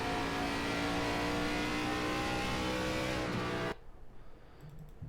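An ARCA race car in a racing video game at Bristol, its engine loudly revving and accelerating in a steady high-pitched drone that cuts off abruptly near the end, leaving quieter noise.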